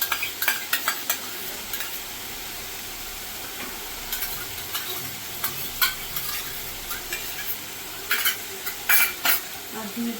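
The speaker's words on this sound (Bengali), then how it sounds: "তাই দিয়ে এবার আমি এটাকে ভালো করে কষিয়ে নিয়ে নেবো।" Spices and yogurt being stirred in a pan for a katla fish curry, with a soft steady sizzle under irregular scraping and clinking from a spoon, and no voice.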